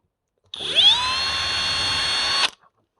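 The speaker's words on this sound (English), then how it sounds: "Drill your holes." A power drill whirs up to speed and runs steadily for about two seconds, close and loud, then cuts off abruptly, drilling holes for a camera mount on an RC rock crawler.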